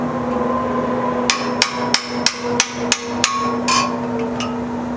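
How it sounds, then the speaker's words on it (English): A blacksmith's hammer rings on an anvil while forging a spring fuller: about eight sharp, evenly spaced metallic strikes, loud and close, over a steady low workshop hum. "Hammer down just a little more."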